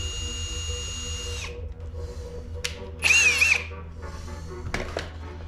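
A power drill whines up close while drilling a custom dash for a Jeep Comanche, then stops; a short, loud burst of drilling follows, with a couple of brief clicks and bumps after.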